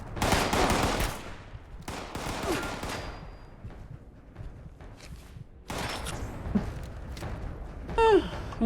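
Rifle gunfire in Fallout 76 comes in rapid bursts of shots, with a long burst, a short one, and then more bursts after a quiet gap, sounding loud and close.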